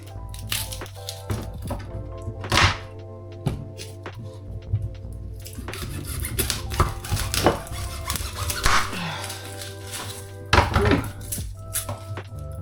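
A knife chops red onion on a cutting board, with sharp irregular strikes spaced a second or more apart over a low steady kitchen hum. No one speaks.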